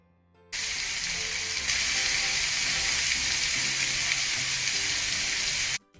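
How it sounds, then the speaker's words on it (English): Loud, steady sizzling as fish hits a hot skillet, starting abruptly and hissing evenly for several seconds before cutting off. "Now let's listen to the fish go sizzle."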